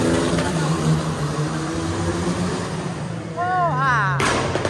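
A car accelerates up a shopping mall ramp, its engine roar echoing in the resonant concrete space, loud and sustained with a rising whine near the end, followed by an abrupt burst.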